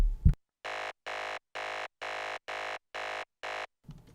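A psytrance grid synth patch built in Serum plays seven evenly spaced, identical buzzy stabs in a steady rhythm, heard alone and fairly loud with short silences between hits.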